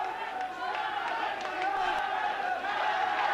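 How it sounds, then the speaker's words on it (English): An arena crowd at a kickboxing bout roars and chants in support of fighter Baris Nezif, a sustained loud wall of voices with scattered shouts standing out. "The crowd rallying behind Baris Nezif"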